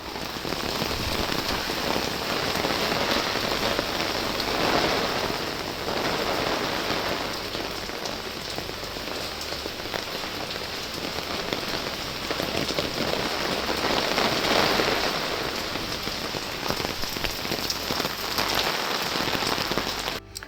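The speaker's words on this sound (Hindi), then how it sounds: "तो भाई देखिए सावन कैसे झूम झूम के बरस रहा है।" Heavy monsoon rain during the Sawan season pours down steadily, a dense, loud hiss of drops drumming on surfaces that continues unbroken throughout with no voices.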